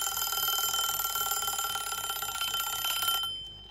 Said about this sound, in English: And then it's ringing.